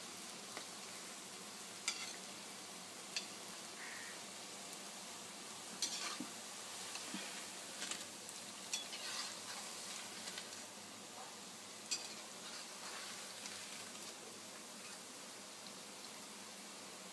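Dahi bhalla lentil dumplings fry in hot oil, giving a steady, dense sizzle that runs unbroken throughout, with small pops and the occasional scrape of stirring, close and even in level.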